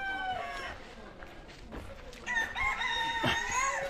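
Chickens and a rooster crow and cluck at a Shinto shrine, the loud crowing rising over a busy background of visitors and nearby bird calls.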